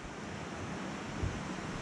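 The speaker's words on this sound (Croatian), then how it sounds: "prolazi blizu jedan potok, čuje se žubor" A small stream babbles through jungle farmland, a steady broadband rush of flowing water heard close and continuous, with no talking over it.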